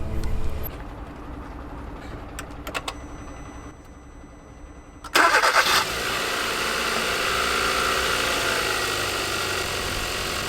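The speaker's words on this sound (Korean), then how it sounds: "시동이 잘 걸립니다" A car engine starts after its battery is replaced and a supercapacitor is fitted. After quiet background sound, a brief cranking burst catches at once and settles into a steady, close idle.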